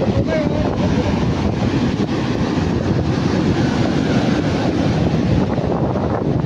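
Sea waves break and wash steadily onto a beach on the Konkan coast, a continuous loud roar of surf mixed with strong wind buffeting the microphone, with no pauses throughout.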